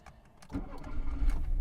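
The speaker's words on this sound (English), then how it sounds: "And so let me just insert the key, start the car." A VW Golf 2 GL cranks over and catches, its engine rising from a short starter whir into a steady, close idle.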